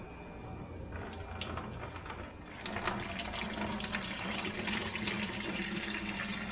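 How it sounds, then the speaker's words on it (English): A boat engine, run out of the boat on a hose, gurgles and gargles as it fills with water, a faint steady trickle that swells into louder bubbling, churning flow midway. "You can hear the engine gargling as it fills up."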